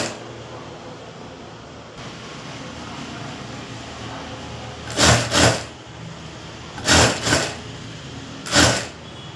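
A sewing machine stitches a puff sleeve with a half-inch seam margin, running in three short bursts of a few seconds each. Quiet room hum fills the pauses between runs.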